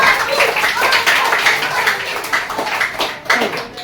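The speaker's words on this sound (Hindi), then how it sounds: "भाई ताली नहीं बजाओगे इनके लिए?" Children in a classroom clap for a classmate, giving steady, dense applause throughout with light chatter mixed in.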